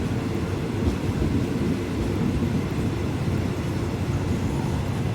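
A train on the new Southern Line double track near Khlong Ta Khot station, Photharam, Ratchaburi, Thailand, rolls along with a steady, loud low rumble and rattle from start to finish, with no voices.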